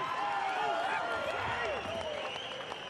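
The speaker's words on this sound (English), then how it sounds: "Give them a round of applause, please." Crowd at a professional boxing match applauding and cheering around the ring, a dense, steady roar of clapping lasting throughout, with voices and an announcer-like voice carrying over it.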